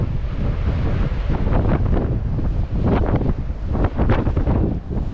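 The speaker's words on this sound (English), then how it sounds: "But the sea is raging." Strong wind roars against the microphone in gusts during a bike ride by the sea, with crashing surf from a raging sea surging underneath, loud and continuous.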